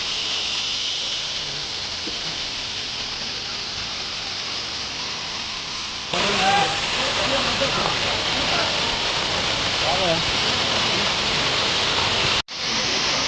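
Waterfall at Bandardara pouring down as a steady, loud, broad rush of falling water that fills the whole clip, with voices talking over it during the second half.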